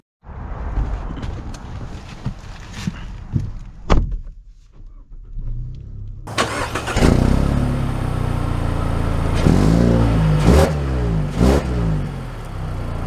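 A 2023 Mazda 3 with all-wheel drive and the premium package starts up, a short burst of cranking and settling, then a brief lull before the engine runs steadily and revs with rising and falling tones heard from inside the car.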